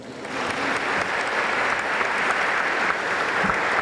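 Sustained applause from an audience at a company awards ceremony honouring top employers, dense and steady from start to finish, with no voices standing out.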